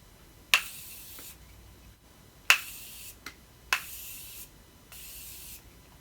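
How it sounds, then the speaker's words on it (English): Four short pumps of a makeup setting spray misted onto a face, each releasing a fine hissing mist that fades quickly, spaced a second or so apart in a quiet room. "kind of want to spray your face again because now we're going to set everything"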